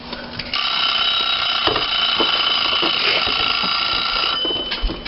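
A kitchen timer rings in a home kitchen during a long batch cooking session, a loud continuous electronic ringing close by that holds steady for about four seconds before cutting off, with faint clatter around it.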